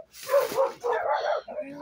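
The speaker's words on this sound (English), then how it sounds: "The dogs went bananas." Several dogs bark in an excited burst indoors, a quick run of close, loud, yappy barks with whimpering tones and no pause between them.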